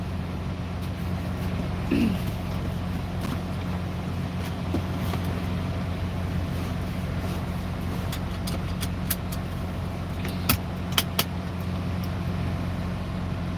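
Steady low engine drone and road rumble from inside a truck cab traveling on I-90 through the Idaho mountains, continuous and even, with faint clicks and rattles and no talking.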